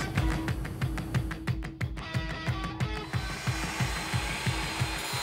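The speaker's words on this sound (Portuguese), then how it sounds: "Eu vou levar a peça lixadeira angular grande e vou lixar todas as superfícies com ela, deixando-as totalmente limpas" A large angle grinder works over the surfaces of a freshly forged, welded kukri blade to strip the weld oxidation, giving a loud, close, harsh grinding rasp with regular rhythmic pulses under a steady motor drone.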